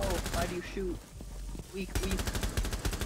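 Video game gunfire crackles in rapid automatic bursts, loud and close, mixed with a voice talking over the shots.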